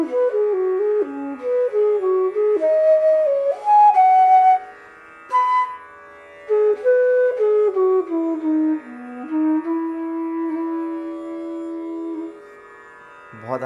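A breathy bansuri flute in E plays a slow, flowing melody with sustained notes and gentle slides, heard clearly and alone.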